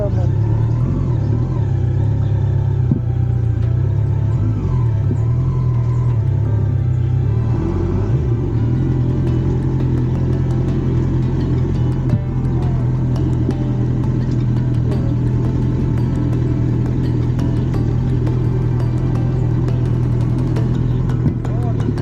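A motorcycle engine labours loudly and steadily through deep mud on a village track in Kenya, its low rumble continuous throughout as the rear wheel slides and loses traction.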